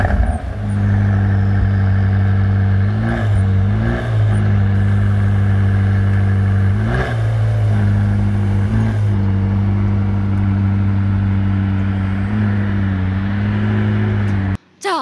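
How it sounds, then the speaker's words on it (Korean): A McLaren 600LT supercar idles from behind, a steady deep exhaust drone with a few short throttle blips lifting the pitch, loud and close with no talking. "우리가 배기음도 좀 듣고 올게요."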